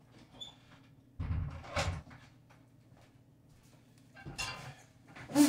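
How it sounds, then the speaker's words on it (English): A household door being pushed shut, giving a few soft thuds and scrapes with a brief squeak. Short knocking bursts come close by at the start and again near the end, with quiet gaps between them and no talk. "Push this door back up."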